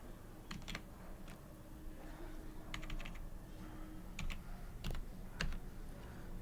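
Keyboard keys clacking in short irregular bursts as HTML heading tags are typed into a code editor, close and moderately loud over a low steady background hum.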